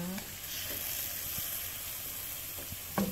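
Siopao filling sizzles and fries in a pan while being stirred, a soft steady hiss with occasional scraping clicks, fairly quiet and without talk.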